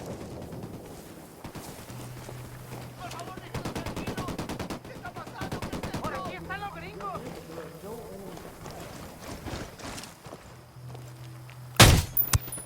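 Rapid gunfire bursts and scattered shots in the video game Ghost Recon Wildlands, with a sharp loud blast near the end, while voices talk throughout.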